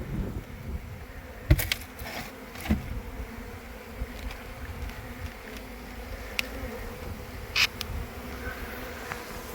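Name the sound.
honeybees buzzing during a rescue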